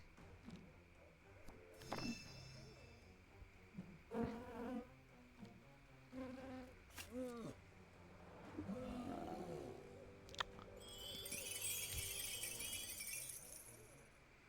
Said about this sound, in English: Death by bee sting.